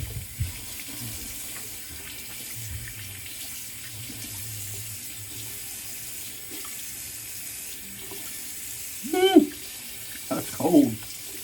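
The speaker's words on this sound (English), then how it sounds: "All right, a little cold water rinse," Tap running into a bathroom sink for a cold-water rinse after a wet shave, a steady faint stream throughout with a few louder splashes near the end.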